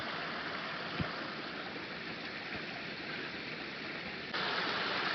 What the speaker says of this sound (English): Water's really running good today.